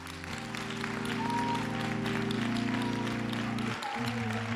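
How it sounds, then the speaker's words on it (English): A church congregation at an all-night prayer gathering claps together in a steady, sustained burst, with a held organ or keyboard chord ringing beneath the applause. "Just clap. Don't say nothing. Just clap."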